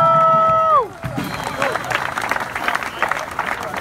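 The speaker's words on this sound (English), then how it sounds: "let's send them off with a round of applause, guys." A rally crowd at the Hayes Mansion reception cheers and applauds the UC Irvine basketball team before March Madness. A brief tone fades out, then dense clapping and cheering swell in and carry on steadily.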